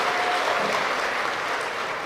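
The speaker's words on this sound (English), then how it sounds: "Please give him a round of applause." Steady, dense applause from an audience fills a town hall meeting held as an anti-crime gathering, a continuous even wash of many hands clapping at a constant level throughout.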